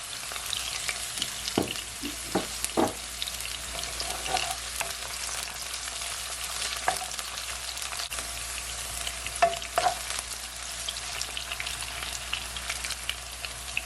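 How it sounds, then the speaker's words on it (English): Garlic and fresh thyme fry in a pan for Jamaican ackee and red herring, a steady close sizzle with occasional crackles and soft stirring scrapes, no talk. "And I'm gonna also add my garlic and my fresh thyme."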